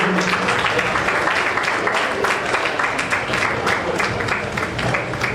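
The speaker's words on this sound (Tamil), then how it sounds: "மாணவர்களுக்கு கைத்தட்டி உங்க பாராட்ட தெரிவிக்கலாம்" An audience at a student award ceremony claps steadily in a thick, continuous burst of applause, with a voice briefly audible beneath it near the start.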